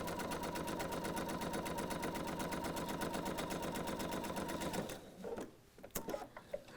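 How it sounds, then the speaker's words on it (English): A sewing machine stitches quilt pieces together in a fast, steady, close mechanical whir for about five seconds, then stops, followed by a few faint handling clicks. "I'm gonna continue stitching to that next pin, and then I'm gonna stitch on through"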